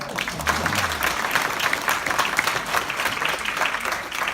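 Warm, steady applause from the audience at the Crimefest 2019 awards, close and continuous clapping throughout, with a brief low voice early on.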